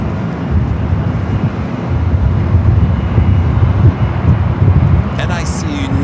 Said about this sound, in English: NIC Nursey's flight right there in front of the ATR.